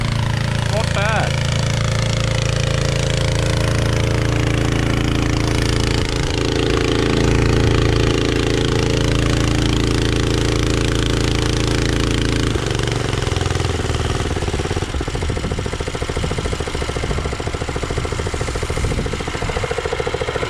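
A firefighting trailer's pump engine idles steadily and loudly at close range for the whole stretch, a rough mechanical knock running throughout, with people talking over it.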